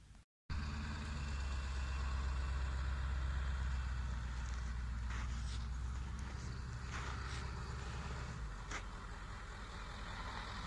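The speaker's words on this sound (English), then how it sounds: "I think I hear Derek's truck in the distance" A pickup truck's engine rumbles steadily at a distance through the whole stretch, a low constant drone with no voices.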